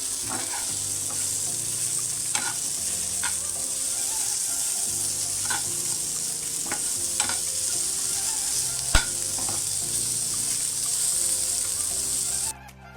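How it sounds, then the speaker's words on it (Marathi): Tomatoes sizzle steadily in a hot pan, a constant crackling hiss with occasional scrapes and taps of a spatula stirring. "असं फ्राय करून घ्यायचं याला व्यवस्थित"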